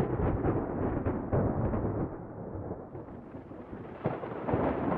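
Cartoon thunder from a lightning bolt striking a tree rolls in a deep, rumbling wash that swells and fades over several seconds, muffled and fairly quiet, with no voices.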